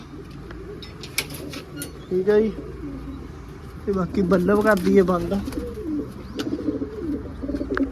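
Pigeons coo softly in the background while a person speaks over them.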